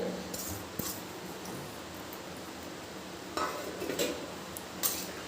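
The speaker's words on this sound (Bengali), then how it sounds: "এবার এটাকে আমি নেড়ে নিচ্ছি" A vegetable rice dish with potatoes and soya chunks is stirred in a pan, soft scraping and a few light metallic clinks of a spoon over a quiet, steady hiss.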